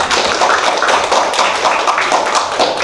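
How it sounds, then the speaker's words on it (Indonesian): Classroom applause for a student group in a vocational cooking class, a dense, steady patter of many hands clapping close by for several seconds with no break. "tepuk tangan untuk kelompok"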